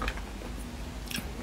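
Close-up biting and chewing of seafood or fatty pork during a mukbang: soft wet squishes and a couple of sharper crunchy bites, intimate and moderately loud, with no talking.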